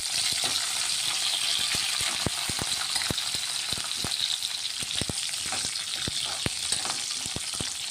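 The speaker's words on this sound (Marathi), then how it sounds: "आता मिरच्या चांगल्या परतून घेऊ थोड्या।" Sliced green chillies sizzle and crackle in hot oil in a pan, a steady close frying hiss broken by frequent sharp pops and spatters.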